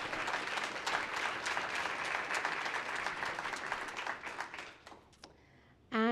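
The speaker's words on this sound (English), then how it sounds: "Come on, a bigger round of applause." An audience applauds at a climate finance event, a dense sustained clapping that holds for about four seconds, then fades and thins out toward the end.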